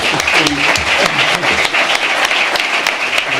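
Audience applause fills a Spanish-language round-table panel session on exit routes for minority investors, steady and sustained clapping from a room of attendees, dense and close throughout with no voices above it.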